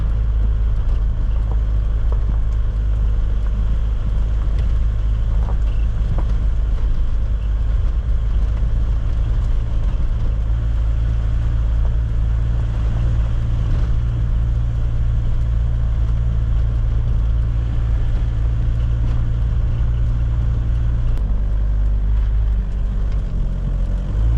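A car's engine drones on at an auto salvage yard, a constant low hum that stays loud and unbroken for the full length, with no one speaking.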